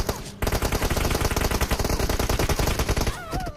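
Rapid automatic gunfire in the battle royale game BGMI, a dense burst of shots rattling continuously for about three seconds after a brief lead-in, loud and close, ending with a few ringing effect tones.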